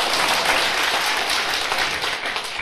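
Church congregation clapping together, a dense, sustained wash of many hands applauding at steady loudness throughout.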